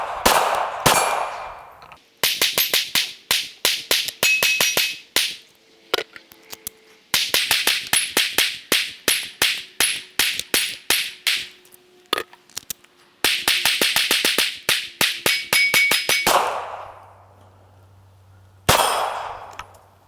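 A Glock 17 pistol fires 9mm 124-grain hollow point rounds during a torture test: loud, sharp shots in rapid strings of many rounds, broken by brief pauses between bursts.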